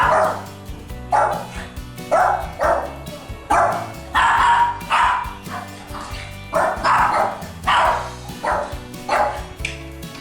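Several dogs bark loudly and repeatedly close by, in quick uneven bursts with short yips between them.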